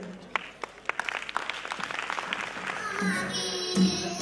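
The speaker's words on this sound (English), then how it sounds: "Claps will make this movement more memorable." Scattered individual claps build into fuller applause from the audience at a preschool annual day, with a few voices chattering over the clapping near the end.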